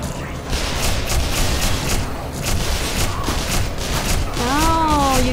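Continuous rattling gunfire in Black Mesa pounds steadily through the clip amid loud game clamor, with a player's voice briefly heard near the end.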